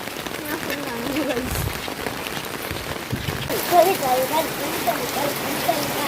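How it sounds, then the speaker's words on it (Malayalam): Steady rain patters continuously, a broad soft hiss with faint voices underneath. "ഇതുവരെ കാറ്റൊന്നുമില്ല മഴ മാത്രം ഇങ്ങനെ പെയ്യുന്നുണ്ട്"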